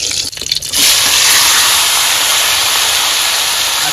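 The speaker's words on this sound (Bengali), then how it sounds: "তেল গরম হয়ে গেছে মাছ দিয়ে দেবো" Fish goes into hot oil in a village kitchen and a loud, sudden sizzling hiss erupts after a brief moment of handling noise, then holds steady and strong.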